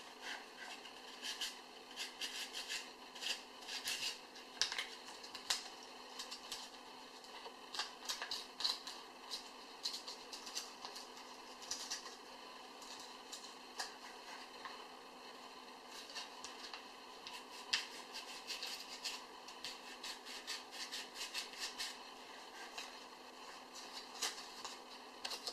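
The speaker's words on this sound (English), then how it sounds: "So I'm gonna sand a little more here." Hand sanding of a chalkboard-painted surface, a steady scratchy rasp of abrasive strokes repeating in uneven bursts, close and fairly quiet, with no talk.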